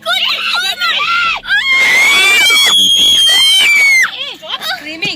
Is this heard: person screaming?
yes